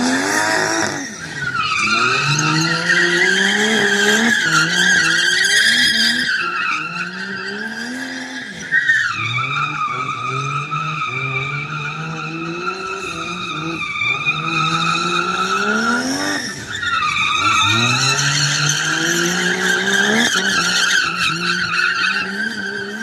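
Cars drifting at a drift school, including a BMW with an angle kit, their tires squealing in long, loud, sustained screeches over engine roar, rising and sliding in pitch with brief breaks between passes.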